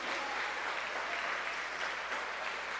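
A church congregation applauding the Lord during a worship service, steady dense clapping throughout, loud and close with no gaps.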